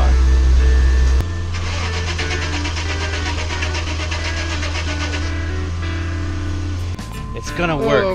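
A car engine runs steadily during a jump start, a loud low hum that shifts to a smoother idle after a second, with a faint high whine and brief voices near the end.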